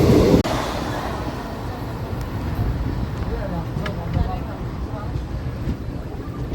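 Mysuru–Kakinada special train running slowly near Ghatkesar, a steady low rumble of wheels on rails heard from inside the coach with a brief knock at the start, continuous and moderately loud.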